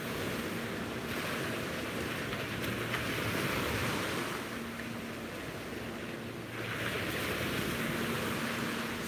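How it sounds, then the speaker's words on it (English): Loud ocean waves roll onto a beach at sunrise, a constant, close surf that swells and recedes in slow surges, with wind buffeting the microphone. "The waves are nice and loud, which is fun too."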